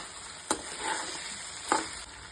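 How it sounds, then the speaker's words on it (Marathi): Soybean chilli with tomato sauce stir-fried in a pan: a continuous close sizzle with two quick spatula scrapes cutting through it. "परतून घेऊया"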